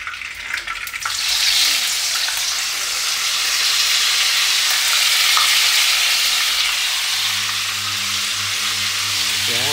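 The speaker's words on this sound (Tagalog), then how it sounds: "prito muna natin ang ating pork chop" Pork chops fry in a hot pan, a loud, steady sizzle with bright crackling that swells after a quieter start; low tonal sounds join near the end.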